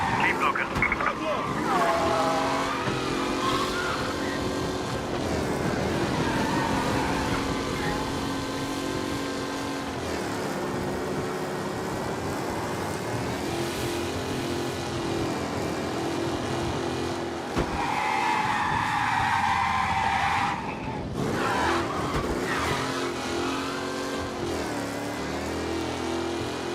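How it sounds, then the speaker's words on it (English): Race car in the video game Mafia Definitive Edition speeding through city streets, its engine roaring loudly and continuously with rising and falling revs, while voices speak over it. "Race car breaking the limit through the city."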